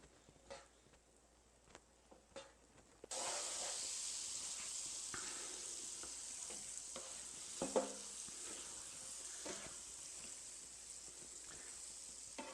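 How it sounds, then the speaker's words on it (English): Three tablespoons of butter melting in a frying pan, heard after a few soft knocks as a sudden steady sizzle that continues evenly to the end, close and constant, with a small clink partway through and no voices. "we're going to add 40 milliliters or 3 tablespoons of butter to the pan and let it melt"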